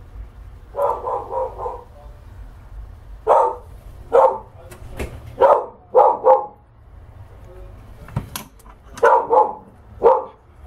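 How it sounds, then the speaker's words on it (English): Several dogs bark in short bursts of two or three sharp barks with pauses between, fairly close and loud over a quiet background, with no talking. "Sorry for the dogs barking, they bark all the time."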